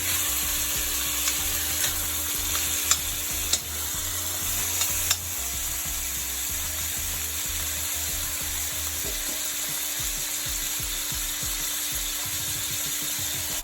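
Steak searing in a little butter in a hot pan gives a steady, bright sizzle that runs unbroken, with a few soft scrapes and clinks from a utensil early on.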